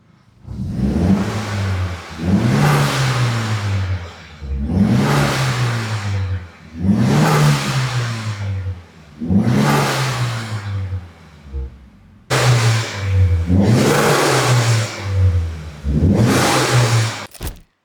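A Nissan 200SX S13 fitted with a new homologated exhaust and racing intake revs repeatedly near the microphone, six or seven loud rising-and-falling engine bursts with brief dips between them.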